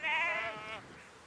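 A single sheep on an Edwardian-era farm gives one short, wavering bleat, fairly close and clear, fading off after under a second into quiet.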